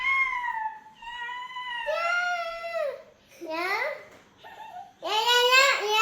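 A young child imitates a cat, giving a series of drawn-out, wavering meow-like cries, close and fairly loud, with brief pauses between them.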